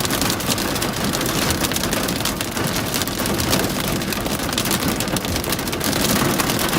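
Pea-sized hail pelts down during a Colorado Springs thunderstorm, a dense, loud, continuous patter of many small impacts with no pauses or talk.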